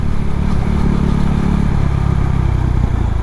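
A Husqvarna Svartpilen 401 motorcycle with an aftermarket exhaust can rumbles loudly up close, a deep, throbbing engine note that holds steady while riding.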